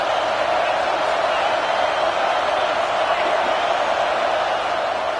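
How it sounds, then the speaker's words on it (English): A home crowd at a football game roars in a dense, steady wall of cheering that stays loud and unbroken throughout, with speech blended into the noise. "how nice is it to have the home crowd going absolutely bananas?"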